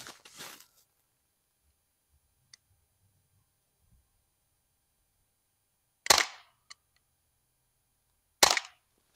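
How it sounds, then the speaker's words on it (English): Umarex Glock 19X Gen 5 CO2-powered BB pistol firing at a target about 10 yards away: a few sharp, isolated pops spaced seconds apart, loud and close, with faint clicks between them. "let's go ahead and put some shots on target too"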